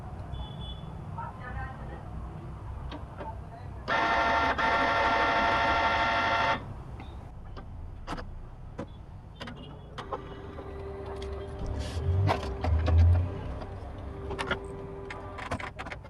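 Canon Pixma G2020 inkjet printer powering on, a loud mechanical whir lasting a few seconds followed by quieter clicks and motor sounds, with a person speaking intermittently.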